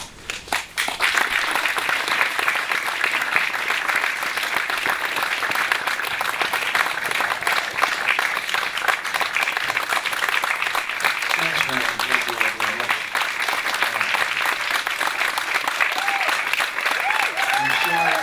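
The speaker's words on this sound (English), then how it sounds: "A round of applause for all." Sustained, loud applause from a large audience at a JFK memorial event, steady for most of the clip, with a voice briefly coming through near the end.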